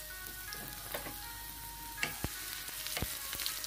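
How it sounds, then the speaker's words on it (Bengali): Minced garlic and dried red chili frying in hot oil, a steady close crackle with a few sharper pops and utensil clicks, no voices over it. "রসুন কুচি শুকনো মরিচ দিয়ে দিলাম আমি শাকটা ভাজি করবো"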